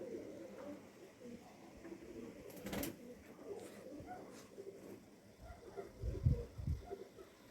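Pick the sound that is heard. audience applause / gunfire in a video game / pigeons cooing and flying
pigeons cooing and flying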